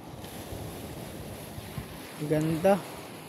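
Calm sea washing softly along a beach, a low steady wash with faint wind, and a voice rising briefly near the end.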